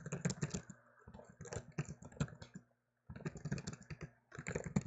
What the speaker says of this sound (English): This is just me typing something.